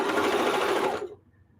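A sewing machine chain piecing quilt fabric scraps runs in a fast, loud, steady whir for about a second, then stops abruptly, leaving near silence.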